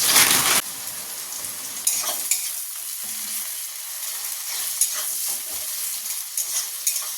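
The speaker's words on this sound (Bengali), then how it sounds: "মাছের তরকারি করবো বলে পেঁয়াজটা ভাজছি" Onions frying in hot oil in a pan for a fish curry, a steady close sizzle with occasional stirring scrapes and light utensil clicks, after a brief loud burst at the start, no voices.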